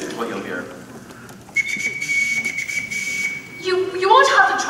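Shrill whistle blasts used as signals to call children on a large estate, with one long steady tone and then shorter warbling calls, loud against a faint background.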